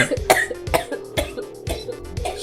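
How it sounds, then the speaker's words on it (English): A woman coughs repeatedly after a hard bout of laughter, a run of sharp, close coughs in an uneven rhythm with some throat clearing. "She laughed so hard she started coughing."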